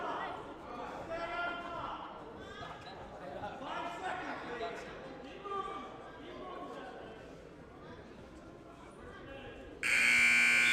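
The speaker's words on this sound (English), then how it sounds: "And at the buzzer in the first period, it is 6-1 in favor of Singh." At a varsity high school wrestling match, the end-of-period buzzer blares loudly and abruptly in the final second, following a stretch of commentary and gym crowd chatter.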